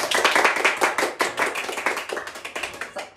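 Flamenco-style hand clapping, a quick run of sharp claps at moderate volume, close and alone, with an uneven rhythm.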